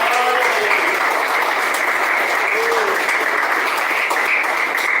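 A church congregation clapping during a sermon, a dense continuous patter of many hands filling the space, with a few voices faintly mixed in beneath.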